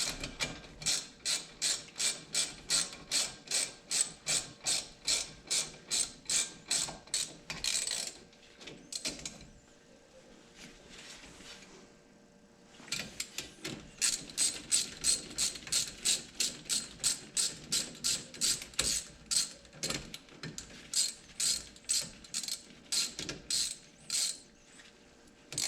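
A hand ratchet clicks in rapid repeated bursts while tightening bolts on a Ford Fiesta front wheel hub during a wheel bearing and brake pad job, close and crisp, with a short pause midway before the clicking resumes.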